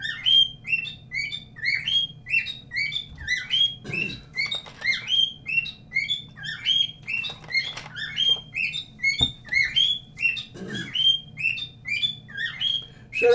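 A pet bird chirps in quick, steady bursts close by, the bright calls repeating almost nonstop over a faint low hum, with a couple of brief clicks in between.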